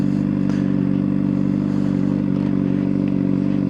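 A Honda motorcycle putters through a slow turn in first gear, a steady low engine drone held at an even idle-like pace, close and continuous with faint clatter.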